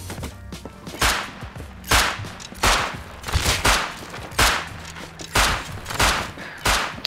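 Gunfire in the video game Rust cracks out in repeated sharp bursts, roughly one or two per second, loud and punchy with short echoing tails.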